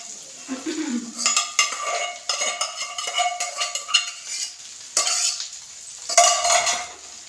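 A soybean and egg mixture fries in a pan, with a utensil repeatedly scraping and clattering against the metal in uneven bursts over a light sizzle, close up and without talk.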